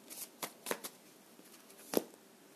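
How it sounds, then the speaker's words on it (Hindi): Tarot cards are shuffled by hand in quiet, close riffling snaps and flicks, a few short bursts spread across about two seconds. "बट हम फिर से इसे एक बार शफल कर लेते हैं"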